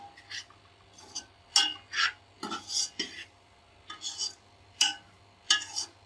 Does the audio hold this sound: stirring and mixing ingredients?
yes